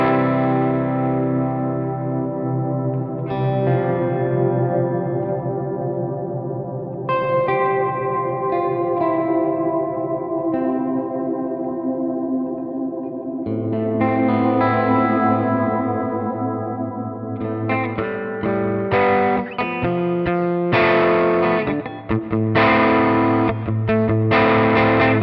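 Distorted electric guitar played through a Line 6 HX One pedal set to reverb, sustained chords and notes washing into long echoing tails, loud and close with no talking.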